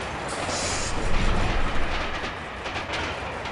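A train rolls on its rails in the video game Shadow Ops Red Mercury, a loud, continuous rumble with rhythmic clatter and a brief swell in the middle, carrying on steadily throughout.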